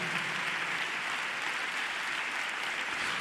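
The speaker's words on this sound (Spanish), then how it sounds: "Un aplauso para el Señor." A church congregation applauds in a steady, dense wash of clapping that holds evenly throughout, fairly distant, with no speech over it.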